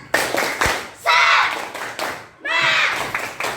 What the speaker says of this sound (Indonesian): Sebelumnya kita kasih tepuk semangat.